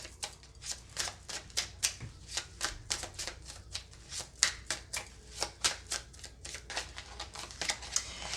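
Tarot cards are shuffled by hand in a steady run of crisp riffling snaps and flicks, about three per second, close and clear with no talking.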